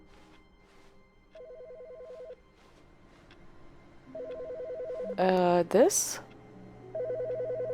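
Electronic telephone ringing in The Stanley Parable office game, short repeated trilling bursts at intervals, fairly quiet, interrupted by a louder clunk of the receiver and a spoken word before ringing resumes.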